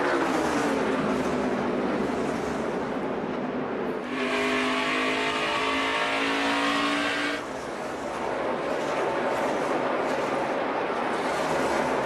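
NASCAR stock cars race at speed, a loud continuous roar of engines with a sustained high whine as cars sweep close past, heard alone throughout.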